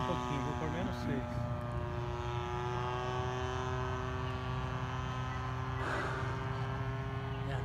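Tucano T27 radio-controlled model airplane with a 20cc engine droning steadily overhead, a continuous buzzing hum that swells slightly as it passes, with outdoor wind noise and people talking in the background.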